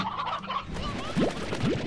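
Rock hens, chickens from the Slime Rancher video game, give short clucks and a couple of rising calls late on, fairly faint over a low background.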